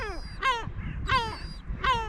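Crows cawing at a Sunday evening feeding alongside pigeons and sparrows, three loud harsh caws spaced about evenly, close by, with a quieter call between them and no talking.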